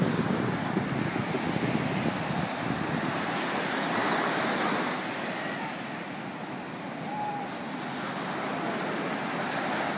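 Ocean waves and surf wash steadily along a cold Australian shore, a broad continuous roar that swells and eases a little, with wind buffeting the microphone throughout.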